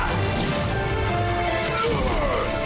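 Gladiolus's Earth Shatter attack in Final Fantasy XV lands as a heavy crashing impact layered with a dense game soundtrack, loud and sustained over a few seconds.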